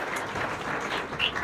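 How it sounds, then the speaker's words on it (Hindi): A crowd at a Republic Day celebration claps steadily for a short burst, a dense even wash of applause at moderate distance with no speech over it. "उनके लिए एक जोरदार ताली हो जाए"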